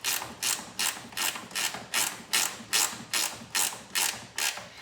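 Ratchet wrench clicking in quick, regular bursts as a bolt is loosened on a Cub Cadet 1710 garden tractor, about a dozen close, crisp ratcheting strokes with no talk.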